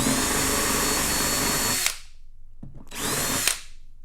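Power drill with a 1/2 inch bit boring into a plastic gas can, loud steady whine for nearly two seconds, then a pause with small clicks before a second short burst of drilling that stops abruptly.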